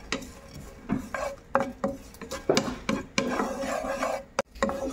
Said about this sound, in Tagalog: hahanguin ko na siya sa kawali